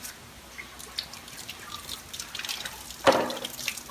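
Water drips and trickles steadily through a leaking hole in a basin, with small irregular droplet taps and a louder splash partway through, quiet and close.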